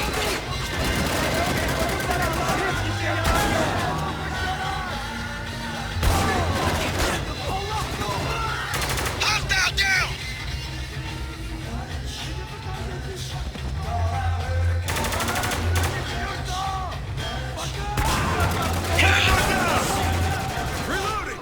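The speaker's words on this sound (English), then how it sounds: "I wish the gunfire was a bit more realistic" Bursts of rapid gunfire and explosions from the PC game Spec Ops: The Line come in waves, with crashes and booms layered over a dense, continuous background of action.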